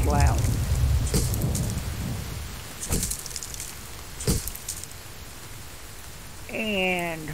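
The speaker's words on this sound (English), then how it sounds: "Oh, that storm is loud." Heavy thunderstorm rain in the survival game The Infected fills the scene as a steady, loud downpour hiss with a few sharp cracks and rumbles, while a voice speaks briefly at the start and end.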